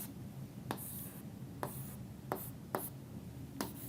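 A pen draws a diagram of the gut, making a few distinct scratchy strokes spaced roughly half a second to a second apart over a faint background hiss.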